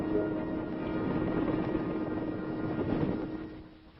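Military helicopters fly in formation, heard as a steady, droning rotor and engine roar from a close vantage that holds nearly constant for a few seconds, then eases off slightly at the end. Nobody speaks.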